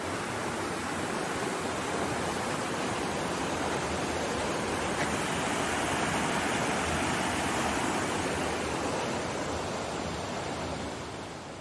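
The Lewis River in Clark County, Washington, flowing near a bridge along a paved trail, a steady, loud, dense rushing roar of moving water that holds constant throughout with no voices.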